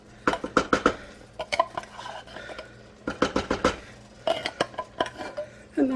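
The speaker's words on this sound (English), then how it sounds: "I'm just gonna pour my beans right in there" Canned beans poured and scraped from the tin into a pot of rice, bursts of quick metallic clinks and scrapes of a utensil against the can and pot, close and clear with no talking.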